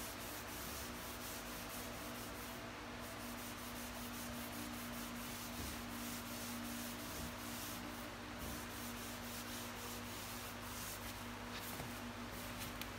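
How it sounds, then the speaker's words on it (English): A walnut cabinet is scrubbed wet with paint stripper, making a continuous rough rubbing and scraping that swells and eases in steady strokes for the whole stretch, close up with no talking. "Always scrub the surface wet."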